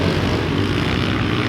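A camera drone flies close by over a muddy pit bike riding area. It gives a loud, steady whirring buzz that fills the whole moment with no talking.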